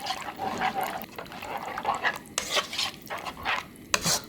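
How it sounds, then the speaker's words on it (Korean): Seasoned chicken sauce with soy sauce and corn syrup is stirred in a pan over high heat, giving close, irregular scraping and clinking utensil strokes over a soft bubbling simmer. "섞어서 끓여줄 거예요, 소스를."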